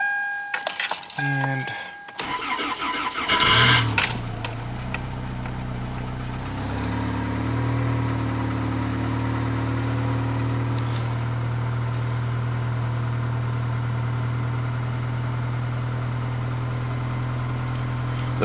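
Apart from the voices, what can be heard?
Toyota Corolla engine cold start and idling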